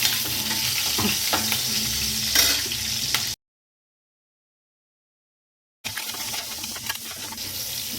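Green chillies fry in hot oil with a continuous sizzle and scraping stirs, broken by a few seconds of dead silence before the frying resumes.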